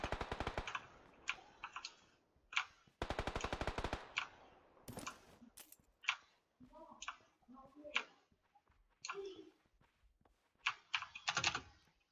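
Gunfire in the PUBG video game comes as several rapid automatic bursts and scattered single shots, fairly faint and spaced out, mixed with keyboard-like clicking and intermittent speech.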